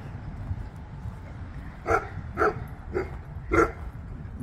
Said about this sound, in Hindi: उसको मैं बिल्कुल पसंद नहीं आ रहा हूँ, तो मेरे पे भौंक रही है।